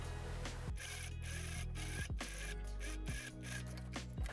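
A sewing machine runs top stitching along the outer edge of a dirndl blouse, whirring in bursts with brief stops and restarts, its motor pitch dropping at each pause; close and fairly quiet with no talk.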